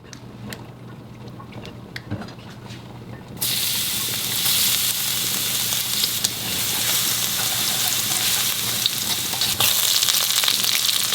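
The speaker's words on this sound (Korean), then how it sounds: "기름에 마늘을 넣고 마늘향을 살짝 나게 한 다음에요" Minced garlic drops into hot oil and bursts into a loud, steady sizzle after a quieter start with faint clinks, frying continuously close by with light stirring.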